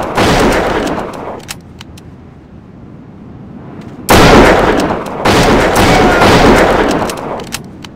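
Bursts of gunfire crackle in the World War II squad shooter Deadly Dozen Reloaded, with scattered shots early, a lull, then two loud, dense volleys of rapid fire close by.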